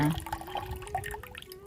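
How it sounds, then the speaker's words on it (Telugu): Water splashes as it is poured into bowls set out for birds in summer, a short, moderately close gurgling pour with no talking. "ఈ బౌల్స్లో నీళ్లు కూడా వేసి పెడుతూ ఉన్నాను"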